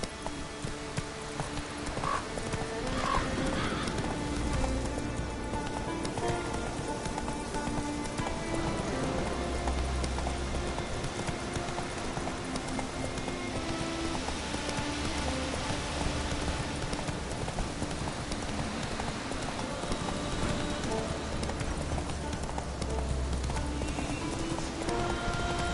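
Hoofbeats of a horse galloping in The Witcher 3, a steady rhythmic clip-clop close by over a continuous game soundscape with rain and ambient music, and a brief whinny.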